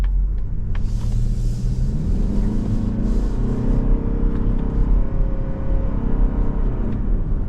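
A 2026 Mazda CX-50 Hybrid Premium compact SUV accelerates through simulated six-speed manual gear shifts, its steady engine and road rumble rising in pitch with each gear and dipping between shifts, heard from inside the cabin with no talking.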